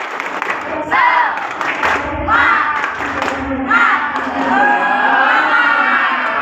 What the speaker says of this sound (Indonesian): Coba ya, tepuk semangat.